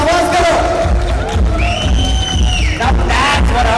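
A crowd at a motorcycle oil promotional event cheers and whoops loudly, with a rising whistle and a bellowed shout from an amplified voice over the noise.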